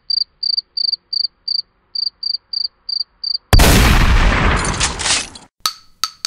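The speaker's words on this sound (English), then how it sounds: "Crickets." Loud, close cricket chirps in a steady series of about ten short bursts, then a sudden harsh burst of broadband noise and a few sharp crackling hits at the end.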